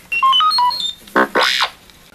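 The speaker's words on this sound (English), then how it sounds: "You will know it is time to turn the page when you hear R2-D2 beep" A quick run of electronic R2-D2 droid beeps and chirps at varied pitches, ending in a rising and falling warble, loud and close.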